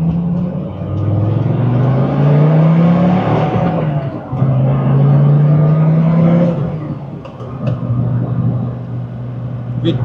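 A 2006 Dodge Viper SRT-10 on its factory exhaust accelerates with a loud, close engine drone that rises in pitch, dips briefly at a shift, then climbs again before easing off.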